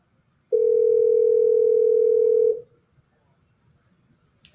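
A telephone dial tone sounds during a redial, one steady, loud, pure tone lasting about two seconds before cutting off, leaving a quiet background.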